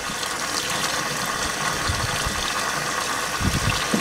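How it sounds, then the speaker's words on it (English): Hot water runs from a kitchen sink tap in a steady, full gushing stream, close and fairly loud, with occasional low splashes as it hits the basin or something held beneath it. "Let's go ahead and turn on some hot water here"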